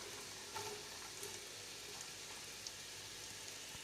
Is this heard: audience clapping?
no